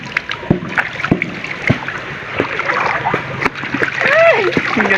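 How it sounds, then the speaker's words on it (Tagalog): Water splashing in a river during an outdoor bath, a run of irregular splashes and sloshes close by, with some vocal sounds mixed in near the end. "Sarap talaga maligo dito sa ilog namin."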